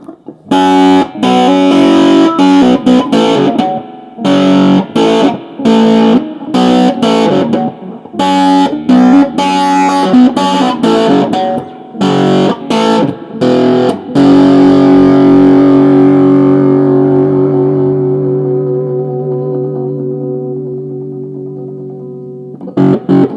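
Electric guitar through a Fender Japan amp cranked to full distortion: loud, choppy chord stabs for about fourteen seconds, then one long sustained chord ringing out and slowly decaying.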